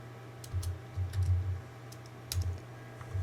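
Computer keyboard keys are tapped in a few short, light clusters over a low steady electrical hum, faint and close, with no talking.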